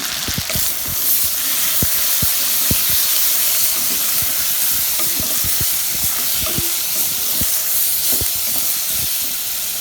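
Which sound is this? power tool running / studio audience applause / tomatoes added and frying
tomatoes added and frying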